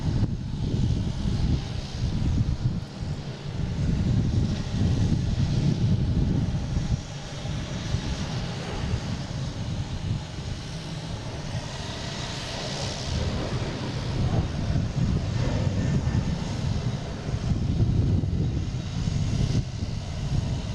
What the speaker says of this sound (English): we got a Delta flight 1655 and A321neo heading to San Fran